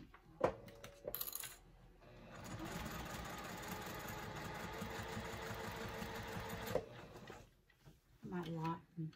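A sewing machine stitches a tote bag in a steady run of roughly four seconds, with short bursts and handling noises before and after and a person's voice nearby.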